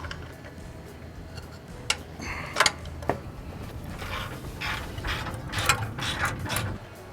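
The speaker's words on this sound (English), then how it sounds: "use our 7/16 wrench and our Allen wrench and tighten up the 2 bolts up top, and then tighten the 2 in the front" A wrench ratchets as it tightens bolts on the channel of a dock table, giving short bursts of clicking with a few sharper metallic knocks, close and fairly quiet against a low background.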